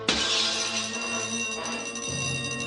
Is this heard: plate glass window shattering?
yes